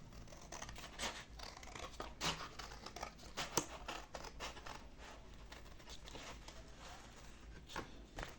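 Scissors trim a paper design in a quick series of close, quiet snips and crisp paper rustles, the cuts coming irregularly one after another without speech.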